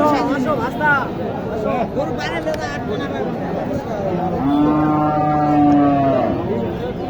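Cattle low nearby at a cattle market, one long drawn-out moo standing out over a busy crowd of voices talking in the background.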